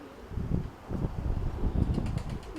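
Pigeons at a loft, a soft coo near the end over rustling, fluttering wing flaps and light wind buffeting the microphone.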